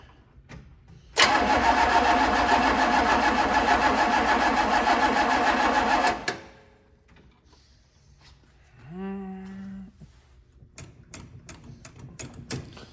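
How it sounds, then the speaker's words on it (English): A 1965 Pontiac Catalina engine cranks without fuel, turning over loudly and evenly for about five seconds before stopping, followed by quieter clicks and a short whine. "Sounds nice and even turning over."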